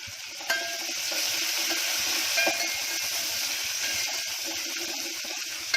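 A steady, close sizzle of garlic frying in hot oil, with a few faint clinks and no voices.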